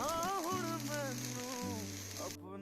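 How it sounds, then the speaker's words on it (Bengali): Soybean chunks fry in hot oil with salt and turmeric, giving a steady hiss and crackle that runs under a person talking and cuts off abruptly near the end. "দু চামচ তেল গরম করে সয়াবিনগুলো ওতে নুন আর হলুদ দিয়ে ভালো করে লাল লাল করে ভেজে নেব"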